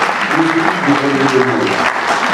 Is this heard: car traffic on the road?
no